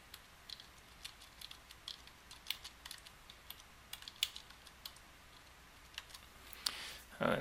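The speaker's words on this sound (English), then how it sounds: "And now I'm going to type in my title." Quiet typing on a computer keyboard, irregular clicks of keys being pressed to enter a page title, steady and close with no talking.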